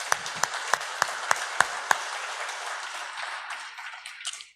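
A church congregation gives a short burst of clapping, with several sharp, distinct claps at the start that then fade into a softer, scattered patter.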